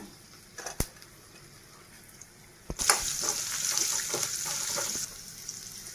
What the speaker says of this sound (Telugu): ఇలా ఆయిల్ మరిగేటప్పుడే ఇంగు అయితే వేసుకోవాలండి మినప్పప్పు ఆవాలు పచ్చిశనగపప్పు జీలకర్ర